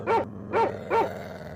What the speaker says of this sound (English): A lot of fucking dogs.